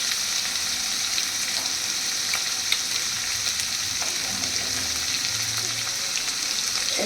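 Cumin and ginger paste frying in a pan with garlic and chilli paste, a steady close hiss of oil with faint stirring ticks throughout, no voices.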